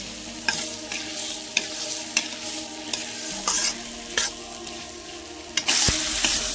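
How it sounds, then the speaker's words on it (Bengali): Boiled jackfruit seeds are stir-fried in an oily pan, a constant sizzle broken by sharp scrapes and knocks of a spatula every second or so, close and fairly loud with no talk. "এই বিচিটা এর ভিতরে দিয়ে দেবো। এর ভিতরে দিয়ে ভালো করে কষাই নেব।"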